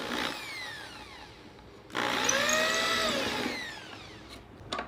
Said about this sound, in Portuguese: Ok, agora eu completo o furo.